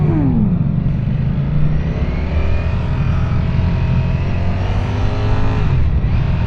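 A 2025 Ducati Streetfighter V4S motorcycle accelerating on the road, its engine a loud, steady, close roar with rising tones as it pulls away, heard alone without speech.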